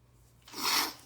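A single short sneeze bursts out near the end, a quick breathy rasp rising and fading within about half a second during a grade-school math lesson.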